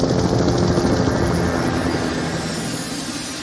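A police helicopter flies overhead in a steady, loud rotor and engine drone that fades slightly as it passes, with no talk.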